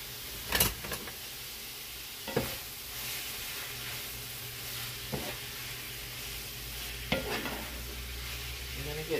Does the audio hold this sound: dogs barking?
no